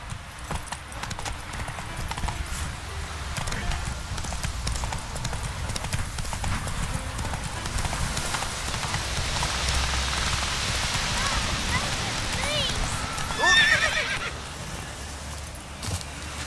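Roach the horse trotting in The Witcher 3, steady hoof clip-clop close by over a continuous rain-like wash, with a brief whinny-like burst near the end.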